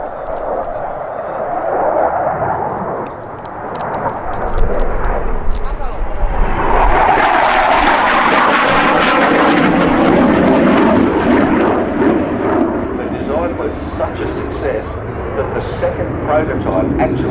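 A SAAB 35 Draken jet at an air festival roars past with a broad, loud rumbling howl that swells and sustains, while a commentator talks over it.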